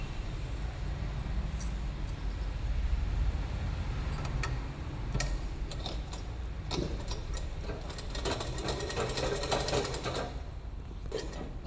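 A sewing machine stitches cloth with a steady mechanical whir and light rapid ticking, running continuously at moderate volume with a few sharper clicks scattered through.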